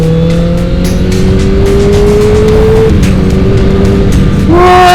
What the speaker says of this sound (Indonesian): Coba kita rasain geberan ya.